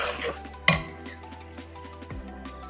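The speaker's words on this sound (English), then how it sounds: "A generous amount of coriander and a final" Millet masala upma with coriander is stirred in a metal pan, giving a sharp spoon-on-pan clank followed by softer scraping and light clinks, with a faint ringing tone lingering underneath.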